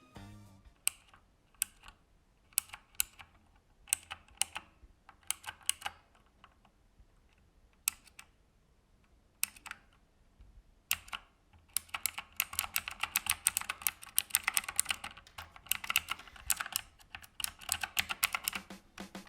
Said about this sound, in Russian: Это синие переключатели OUTEMU, аналоги синих свитчей Cherry.